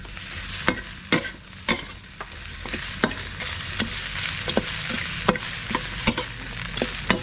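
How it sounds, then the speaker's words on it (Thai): Kale stir-fried with water in a hot pan gives a steady hiss, broken by sharp utensil scrapes and knocks against the pan at irregular intervals, close and clear. "ใส่คะน้าลงไป น้ำลงไปผัดเลย"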